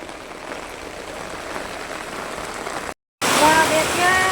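Heavy rain pours as rainwater floods a courtyard, a steady rushing wash that cuts out briefly, then returns louder with a faint voice under it.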